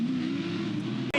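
A race car on a circuit holds a loud, steady engine note that rises slightly in pitch, then cuts off abruptly near the end, followed by a brief high-pitched burst.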